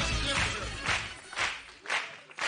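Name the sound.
audience applauding the Harlem Globetrotters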